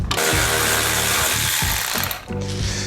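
A ratchet wrench clicks in short rapid bursts while removing a 10mm bolt during an intake install on a Camaro ZL1, close and busy with metallic rattling.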